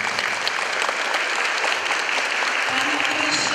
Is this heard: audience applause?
yes